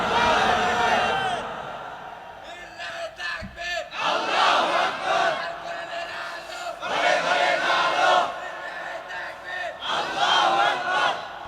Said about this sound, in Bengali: একটু তাকবীর দিবেন না?